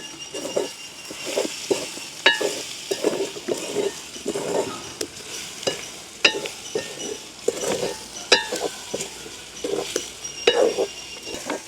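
A spoon stirs and scrapes curry frying in a pan, with spices just mixed in: irregular clinks and scrapes over a steady soft sizzle, close and fairly loud, no voices.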